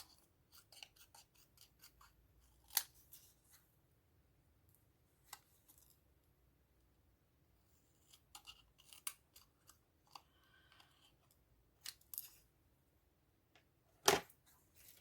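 Scissors snip through old book-page paper for junk journal embellishments, giving a series of sharp, close cuts spaced irregularly with quiet gaps between them and one loud snip near the end.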